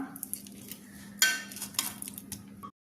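Peeled raw plantains (ethakka) are mashed in a bowl, giving soft clinks and scrapes of utensil against the dish that come in uneven taps, close and fairly quiet.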